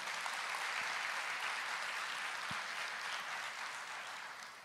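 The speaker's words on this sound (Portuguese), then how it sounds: "Vamos aplaudir ao Senhor." A church congregation applauds in a continuous, moderately distant wash of clapping that slowly fades toward the end, with no voices heard.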